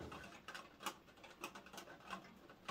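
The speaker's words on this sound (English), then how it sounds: "that's rain on the window." Rain pattering on a window, a faint irregular scatter of soft taps and ticks over a quiet background hiss, no voices.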